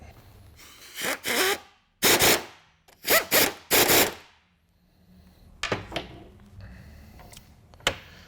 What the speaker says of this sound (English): Now we'll tighten that up with a 13mm socket.